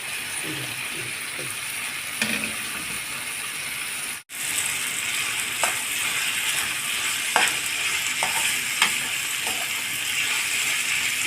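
Chicken pieces for shawarma fry in a hot pan, giving a steady, close sizzle. Occasional scraping stir clicks sound over it, and there is a brief drop near the middle.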